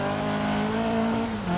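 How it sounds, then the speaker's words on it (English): A rally car engine in the EA WRC racing game, loud and close throughout, with a steady sustained drone that rises slightly in pitch as it revs, and a brief dip near the end. "That is a good sounding engine."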